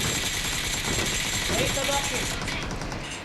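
Rapid gunfire bursts in a shooting video game, loud and dense, with the crackle of shots blending into game ambience under a player's excited speech.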